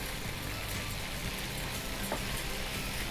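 Spinach cutlet ingredients fry in hot oil in a pan, giving a constant, close, crackling sizzle with faint stirring scrapes and no pauses.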